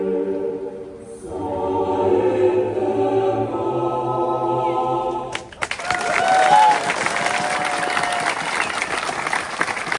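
A crowd at a frisbee world championship bursts into loud applause and cheering after a tonal hum, the clapping dense and sustained through the second half.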